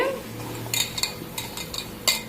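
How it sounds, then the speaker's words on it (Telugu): A spoon clinking against a bowl while onion chutney is mixed with salt, several light irregular taps and scrapes close up, with no one talking. "ఉల్లి చట్నీకి ఇలాగా ఉప్పు ఉప్పు వేసి కలుపుతున్నానండి"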